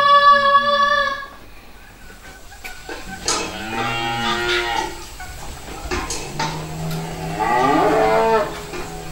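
Cow mooing during a stage play: one long, loud, close moo in the middle of other stage sounds and brief vocal noises, with harmonic calls trailing off later.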